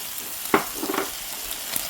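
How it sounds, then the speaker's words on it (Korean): Bacon and sour kimchi frying together in a pan for kimchi fried rice: quiet, continuous sizzling with a few soft scraping stirs, no voices. "베이컨이 갈색 나게 볶아줄 때 김치를 넣어줍니다."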